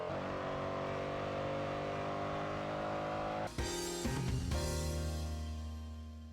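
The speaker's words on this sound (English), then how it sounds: "The car sounds are accurately recorded as well as their backfiring." A car engine in the racing video game Assoluto Racing drones steadily, then revs up sharply with a burst of higher-pitched acceleration and settles back into a lower roar.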